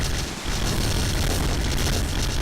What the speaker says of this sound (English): Go explosions though.